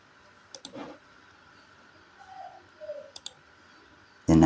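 A computer mouse clicking while drawing in AutoCAD: a few small, crisp clicks spaced through a quiet stretch, with a louder burst of noise at the very end.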